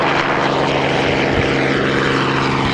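A propeller seaplane roars loudly and continuously at full power as it takes off from the water into the wind, a dense, close engine drone filling the whole clip with no talking.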